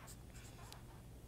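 White marker scratching across black paper in short strokes, close and faint, with brief squeaks as the tip moves.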